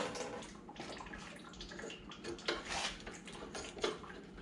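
Fluid drains from a hose on a 1955 Ferguson 35 tractor, a faint, continuous splattering trickle with occasional small metallic clinks nearby.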